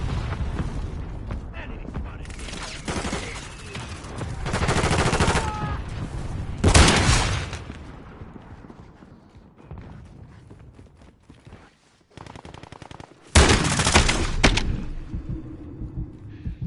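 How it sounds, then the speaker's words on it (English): Shotgun blasts in the Modern Warfare II beta shooter game: several loud, sharp bursts spaced a few seconds apart, mixed with other game combat noise and a synthetic game voice. "See, the shotgun is way more smooth than the assault rifle."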